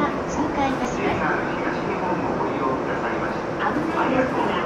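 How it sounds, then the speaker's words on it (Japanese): A steady, loud rumble of a freight train hauled by an EH200 locomotive carrying E6 series Akita Shinkansen cars rolling through a Japanese station, constant and close, with faint announcement-like tones in the background. "まもなく4番線を列車が通過いたします。"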